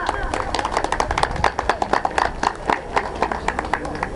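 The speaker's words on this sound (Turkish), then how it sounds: "Alkışlarınızla." Applause from the audience at a Turkish municipal gathering as a speaker is invited to the podium, with dense clapping running throughout and voices mixed in.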